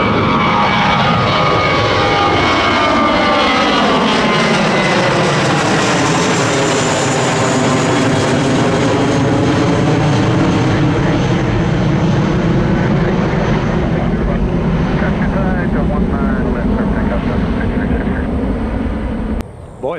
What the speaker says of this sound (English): Southwest departing, southbound.